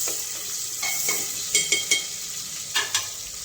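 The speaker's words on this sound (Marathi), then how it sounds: "कांदा आपण लाल भाजी घेऊ" Onions fry in a pan for biryani, a continuous sizzle broken by several sharp scrapes and clinks of stirring, the last few close together, with no talk.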